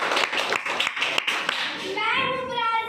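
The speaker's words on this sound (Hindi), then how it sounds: "ताली बजाएंगे।" A group claps together in short bursts, with sharp hand claps coming in quick uneven beats over young voices. The clapping is moderately loud and close, then fades as a voice continues alone.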